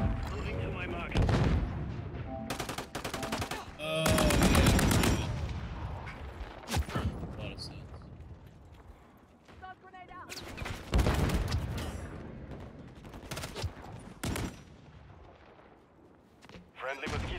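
Gunfire bursts from the Call of Duty Modern Warfare III multiplayer game, several loud volleys and booming blasts scattered through the scene, with a voice talking over the action.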